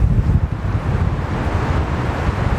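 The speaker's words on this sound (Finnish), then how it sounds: "Aikamoinen tuuli käy." Strong wind gusts buffet the microphone with a constant low roar and rumble on a hike in the Nuuksio forest area, loud and continuous throughout with no voices.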